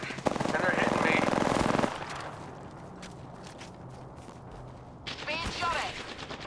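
Rapid bursts of automatic gunfire in a video game, loud and dense for about two seconds, then sparse shots and a second burst, with a voice talking.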